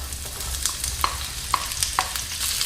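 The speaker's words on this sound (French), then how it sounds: "j'ai émincé des oignons jaunes. Je vais les verser dans la poêle." Sliced yellow onions tipped into a pan of hot sunflower oil set up a dense, constant sizzle close by, with a few brief clinks and scrapes cutting through.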